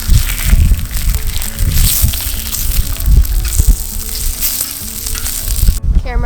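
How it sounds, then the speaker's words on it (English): Pepperoni frying on an outdoor cooktop, a loud, close crackling sizzle with stirring scrapes and low rumbling thumps, continuous until it cuts off just before the end. "Start up by heating up the pepperoni."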